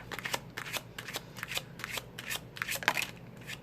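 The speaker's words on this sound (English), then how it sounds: "So, if you don't want to see the shuffling, you can always fast forward." A deck of Lenormand cards is shuffled during a tarot-style reading. It makes a steady run of soft riffling bursts and papery slaps, close and alone.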